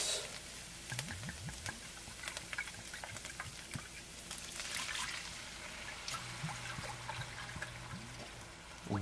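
Two cups of soy sauce for orange chicken pour into a pan in a soft, faint trickle and patter, with scattered small clinks and light liquid spatter.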